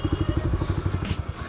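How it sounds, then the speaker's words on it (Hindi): An R15 V4 motorcycle with an aftermarket exhaust running: a close, steady idle with an even, rapid, thumping pulse throughout. "मेरे को पता भाई एग्जॉस्ट अभी चल रहा है"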